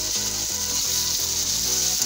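Karonda being cooked and stirred in a pan for pickle, a steady hissing sizzle with regular scraping strokes from the stirring, close and continuous.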